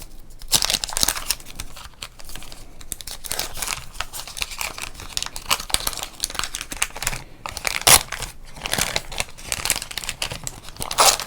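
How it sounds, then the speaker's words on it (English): A 1989 Topps trading card pack wrapper is slowly ripped open up close, with crisp crinkling and tearing foil in irregular bursts throughout, some sharper louder rips standing out. "Let's rip this open slowly"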